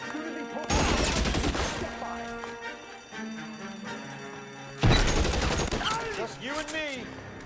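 Tommy gun fire in the video game L.A. Noire: a long, loud stretch of rapid automatic bursts, a lull with lighter shots, then another sharp burst, with a voice shouting over the shooting.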